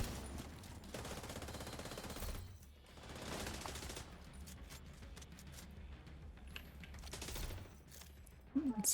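Rapid bursts of automatic gunfire in a shooter video game, coming in several clustered volleys separated by short lulls, fairly quiet overall with a louder flurry at the very end.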